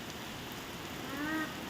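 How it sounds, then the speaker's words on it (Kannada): Heavy rain pours down in Sarjapur, a constant close hiss of drops with a slight swell near the end and no talking. "ಸಿಕ್ಕಾಪಟ್ಟೆ ಮಳೆ ಬರ್ತಾಯಿದೆ ನಮ್ಮೂರಲ್ಲಂತೂ"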